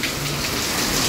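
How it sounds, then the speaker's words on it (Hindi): Steady rain falling outdoors in the evening, a dense even hiss of drops with no talking. "बारिश जो है फिर से शुरू हो गई है"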